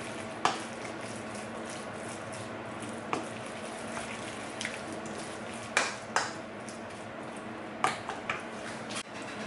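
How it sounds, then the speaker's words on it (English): Pork and prawn wonton filling being mixed in a bowl, a low continuous squelching churn with a few sharp clinks of utensil against the bowl, close and steady. "Just want to mix that all together."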